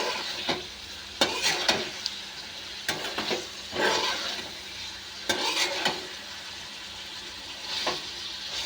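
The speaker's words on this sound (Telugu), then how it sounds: "ఇదిగోండి ఇలా గోడు చిక్కుళ్ళు కూడా వేసుకొని ఇలా కలుపుకోవాలండి." Broad beans sizzle in a hot kadai pan while a utensil stirs them, giving repeated scraping and clattering strokes over a steady, soft frying hiss, close and moderately quiet.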